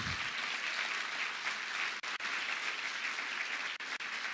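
A church congregation applauds steadily and fairly loudly, a dense, even wash of many hands with two brief dips in the middle and near the end, no voices standing out.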